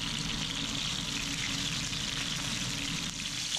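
Perch fillets coated in flour fry in a pan with a steady, close, dense sizzle that continues without a break and has no talking.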